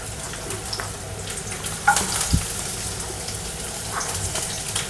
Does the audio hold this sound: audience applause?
no